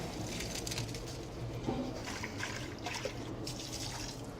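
Water from boiled rice pouring off through a strainer in a home kitchen, a steady hiss and splash that runs throughout with a faint clink partway.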